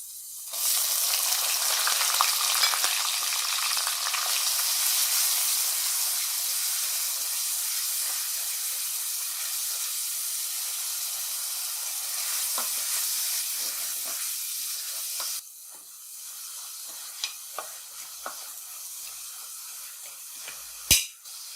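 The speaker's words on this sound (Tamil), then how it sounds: "அரைச்சி வச்சிருக்க வெங்காயத்தை இதில் ஆட் பண்ணிக்கலாம்." Ground onion paste hits hot oil with garlic in a claypot and sizzles in a loud, steady hiss for about fifteen seconds, then settles into a softer crackle with scattered pops.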